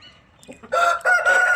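Backyard chickens and a rooster at home, a rooster crowing loudly and close in two long bursts after a brief quiet lead-in, hens faintly clucking around it.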